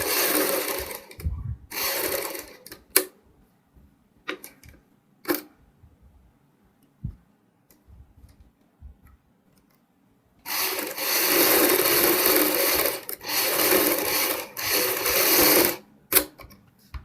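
A sewing machine stitches right along the edge of fabric leaf pieces for a boat-neck front design, running in a burst, pausing with a few clicks and taps, then running again in longer steady bursts.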